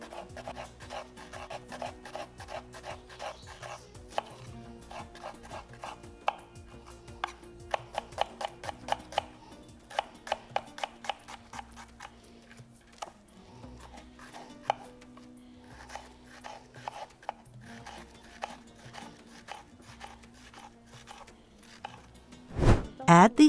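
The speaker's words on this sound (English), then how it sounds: "Chop the onion." A knife chops onion on a board for a beef tagine, making quick runs of light, rhythmic taps in several bursts, quiet and close, ending with a louder knock.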